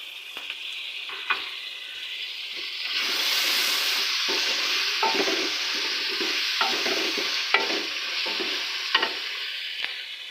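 Peas tossed into pulao frying in a pan, a continuous close sizzle and hiss with irregular scrapes and clinks of the stirring spoon, no voices.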